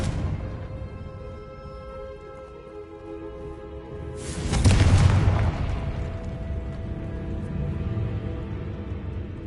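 Fiery Confringo spell blasts in Hogwarts Legacy erupt around the midpoint as a sudden loud boom with a rumbling tail, set against sustained tonal game music before and after, no talk.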